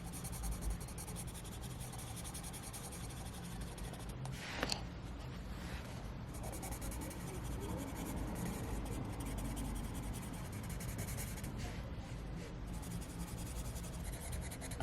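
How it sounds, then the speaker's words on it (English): Colour pencil strokes scratching across paper while colouring in yellow with a Luminance 100 pencil, a steady soft rubbing texture that continues through the whole stretch at close range, with no talking. "For the final colour pencil part, I'm just doing this"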